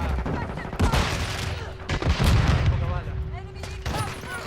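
Call of Duty gunfire from a League Major qualifier match rattles in dense bursts and heavy booms, loud and repeated, with players talking over the shooting.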